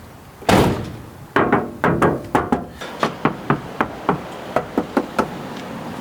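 A heavy thud of a Toyota Land Cruiser Troopy front door shutting after sound deadening, followed by a long series of short, evenly spaced knocks on the door panel, close and sharp.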